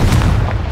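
Confringo explosive spell from Hogwarts Legacy going off as a loud, dense blast with a heavy low boom sustained through the short moment, no voice present.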